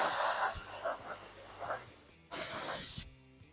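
Lacquer-based spray paint hisses from an aerosol can in light coats onto an R/C car body, several close, steady bursts of broad hiss with brief pauses between passes.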